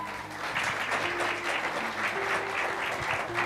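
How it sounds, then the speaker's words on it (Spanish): A church congregation applauds during a morning service, a full, steady burst of many hands clapping together, with a low hum of instruments or voices sitting underneath. "Démosle un aplauso al Señor."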